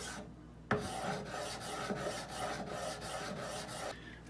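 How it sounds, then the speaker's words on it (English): A Tanjo stone is rubbed along the chamfered edges of a Benchmade Bugout knife blade to break them, giving a close, continuous gritty rasping with a faint rhythmic pulse of strokes before it stops. "I'm gonna go ahead and take my Tanjo stone and just kind of break those edges a little bit."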